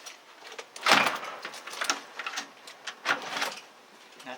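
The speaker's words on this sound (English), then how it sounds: "Now that the door is closed all the way and engaged, the deadbolt operates correctly." A newly installed exterior door, fitted with an adjusted strike keeper, swings shut with a firm thud, followed by a few light clicks and rattles as the deadbolt engages, close by and with no talking.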